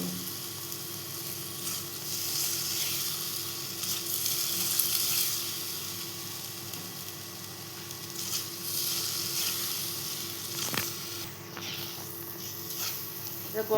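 Ghee sizzles and crackles steadily in a pan while potato burfi cooks with dissolved sugar, a soft continuous fry with occasional stirring scrapes, a voice talking faintly at times.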